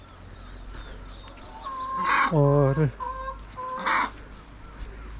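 Chickens on a village poultry farm in the Pauri Garhwal hills cluck and squawk in a few short bursts, moderately close, over a steady low hum, with a brief spoken word from a man.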